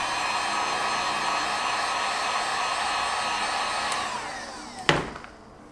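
Heat gun blowing steadily while warming vinyl wrap on the door handle of an NC Miata, a continuous close airy roar that winds down near the end with a brief knock.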